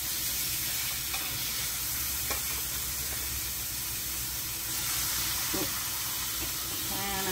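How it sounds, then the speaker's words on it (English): Blackened tilapia and sea scallops sizzle steadily in a hot pan, a broad continuous hiss running the whole time with faint clinks and brief voices in the background. "Listen to the sizzle."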